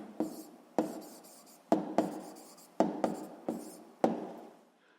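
Pen strokes scratch across paper while working a school physics exercise, in short separate bursts of writing with brief pauses between them, close and fairly quiet with no talking.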